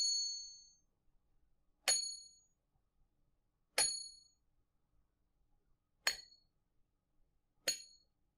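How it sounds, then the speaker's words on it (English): A small Liberty Bell replica is struck five times at roughly two-second intervals, each ring a bright metallic ding that fades at a different rate, some ringing on longer and others cut short by dampening, alone in a quiet room. "I found my small replica of the Liberty Bell and thought I would try this to show you."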